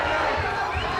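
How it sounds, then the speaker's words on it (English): Boxing crowd at a Commonwealth 154lb title fight between Ossie Duran and Bradley Pryce roars steadily, a dense, loud wall of cheering and hubbub with no pauses. "listen to the crowd respond. They're roaring the Welshman forward."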